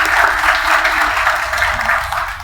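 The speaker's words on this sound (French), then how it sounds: "sur vos applaudissements s'il vous plaît" An audience at a training event on AI breaks into applause, a dense steady clapping that holds at full strength for a couple of seconds and starts to taper, loud and close with no talking over it.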